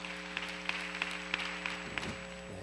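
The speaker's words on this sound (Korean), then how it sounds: "하나님께 영광의 박수를, 또한 김길 목사님께 환영의 박수를 올려드리겠습니다" A church congregation applauds to welcome Pastor Kim Gil, scattered sharper claps standing out over a steady hum of sustained organ or keyboard tones, with no talk in the clip.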